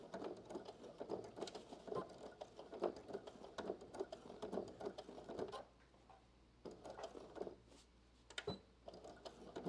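A sewing machine running slowly through a back stitch on muslin, with a busy mechanical rattle and ticking needle rhythm that pauses briefly, then resumes with lighter taps.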